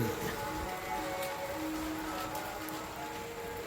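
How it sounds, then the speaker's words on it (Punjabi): Steady rain falling on a cloudy, windy day, a continuous soft patter and hiss at even, moderate loudness with no one talking. "ਮੀਂਹ ਪੈ ਰਿਹਾ ਦੇਖੋ"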